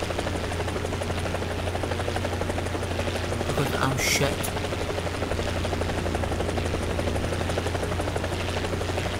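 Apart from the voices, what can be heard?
helicopter in the video game War Thunder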